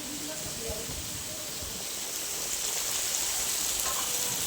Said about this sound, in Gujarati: બાકી અત્યારનો વરસાદ તમે જોઈ શકો છો